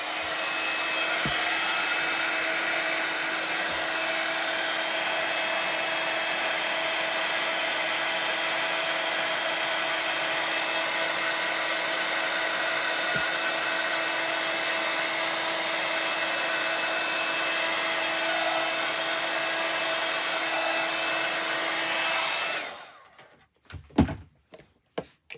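A handheld dryer blows a loud, steady whooshing drone for over twenty seconds while drying stamped ink on a card, then cuts off abruptly, followed by a few close knocks and clunks.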